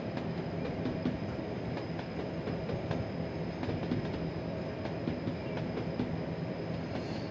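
Steady rumble of a train running in a train simulator game, with faint rhythmic clicks over a dense low drone and no voices.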